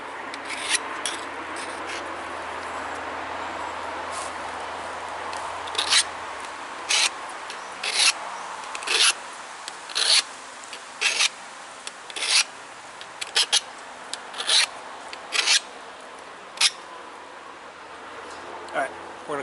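Scraping strokes of a flintknapping pressure flaker being abraded smooth to remove pits, an irregular series of short, close rasping rubs building up over steady background hiss.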